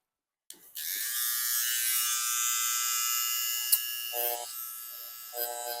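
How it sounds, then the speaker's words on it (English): A small electric hair trimmer buzzes steadily and close during the detail work of a haircut, holding a continuous high whine for several seconds, with brief dips in tone near the end as it meets hair. "I'll use a trimmer for this detailing part."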